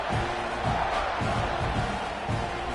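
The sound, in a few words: football stadium crowd cheering at kickoff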